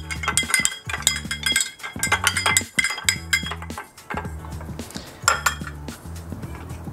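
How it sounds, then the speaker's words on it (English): A Monte Carlo cocktail stirred over ice in a glass: a steady run of quick, close metallic clinks and rattles from the spoon and cubes, repeating in bursts for several seconds with no voice. "Give it a quick stir."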